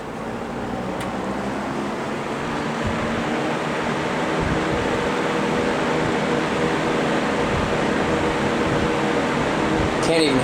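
Two General Electric box fans, models W22 and W25, running on medium speed, giving a steady close whooshing hum of air and motor that holds constant throughout without talk.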